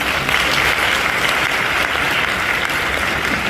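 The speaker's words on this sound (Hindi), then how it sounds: "जो भारत माता से प्यार करता हुआ ताली बजाए" A large comedy-roast audience claps in a loud, dense, continuous burst of applause with almost no talk over it.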